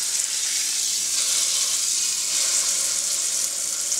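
Beef for roast beef po'boys browns in a hot pan, a steady close bright sizzle and hiss with no break throughout.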